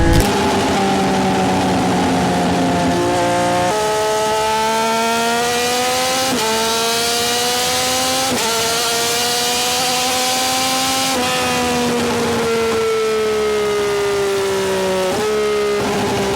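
Yamaha R9 motorcycle with an SC Project CR-T exhaust and DNA stage 2 kit, loud and close, revving repeatedly through rising and falling engine notes with sharp pops between throttle blips.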